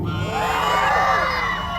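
A large crowd at the Valiya Arattu temple festival in Kunissery, Palakkad, lets out a loud collective hoot of drawn-out, rising and falling jeering howls that fills a short burst of under two seconds.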